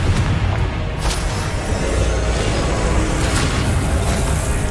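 Confringo spell explosion in the Hogwarts Legacy video game, a loud booming blast with rumbling low end and crackling bursts, sustained throughout under busy game noise.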